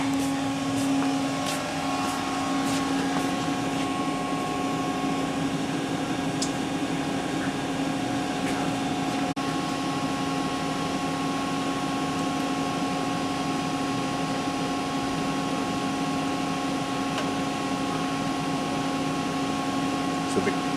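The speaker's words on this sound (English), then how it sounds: "See the emissions machine has its own gas cap tester." An emissions testing machine's gas cap tester runs with a steady, close mechanical hum and fixed whining tones throughout, and faint voices may be present in the background.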